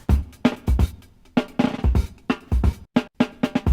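A sampled breakbeat from a real acoustic drum kit plays dry with no effects, punchy kicks and snares with crisp hi-hats in a busy, syncopated pattern over nearly four seconds.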